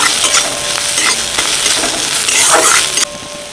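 Garlic, onion, green chilli and ginger sizzle loudly in a hot pan as they are stirred, with scraping strokes over the frying. The sound is close and continuous, then drops suddenly near the end.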